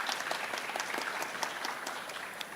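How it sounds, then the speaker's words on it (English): An audience at a health city forum claps steadily to welcome a panelist, a brief, moderately loud patter of hands. "let's give him a round of applause"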